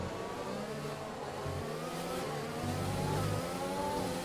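F1 cars in a racing game accelerate out of turn 16 at the Spain round of an online league, their engines revving steadily and continuously at high pitch, with overlapping cars layered close and loud, no voices.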